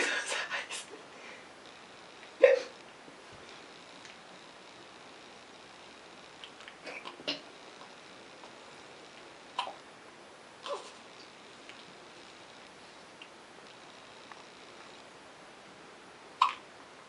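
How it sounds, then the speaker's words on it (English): A baby's hiccups come as a few soft, isolated hiccups spaced several seconds apart, faint against a quiet room. "She got hiccups."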